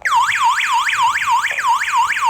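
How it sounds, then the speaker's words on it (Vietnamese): A DIGOO DG-HAMA home security alarm siren wails in fast, rising-and-falling electronic sweeps, about three per second, loud and close with no voices over it. "các bạn thấy không, khi có báo động"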